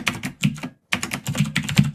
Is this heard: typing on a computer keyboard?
yes